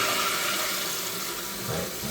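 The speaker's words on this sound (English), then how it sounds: "I'm gonna flush it down." A toilet being flushed after a fill valve and flapper replacement, a steady rushing of water close by, continuous and loud throughout with no talk.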